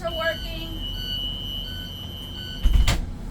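During a walk-around safety check of a bus, its alarm sounds as a steady high-pitched electronic tone with a few shorter beeps. A low engine rumble runs underneath, and a heavy thump comes near the end.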